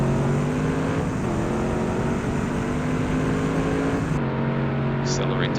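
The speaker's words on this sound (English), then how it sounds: "Accelerate to very high speed very quickly." Chevrolet Corvette C5 Z race car accelerating hard at very high speed, a loud steady engine drone with rising harmonics running throughout, and a brief shift in tone near the end.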